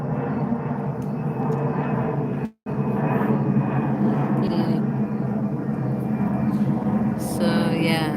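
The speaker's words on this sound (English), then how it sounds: "living in an airport, you do get the loud airplanes from time to time" A loud airplane passes overhead near an airport at night, a continuous deep engine roar that holds steady and close for several seconds, briefly cut off mid-way before resuming.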